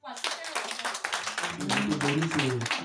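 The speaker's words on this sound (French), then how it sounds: "Applaudis pour toi-même." A church congregation claps together, a dense close patter of many hands that swells toward the end while voices carry on over it.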